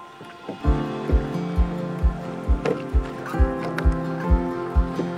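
Rowing boat on the River Amstel, regular rhythmic knocks of oars in their locks about every half second over water sounds, close and fairly loud, with no talk.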